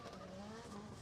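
A Formula Drift car during qualifying at Okuibuki Motorpark in Japan, with a steady roar of engine and tire noise heard faintly from a distance, sustained throughout.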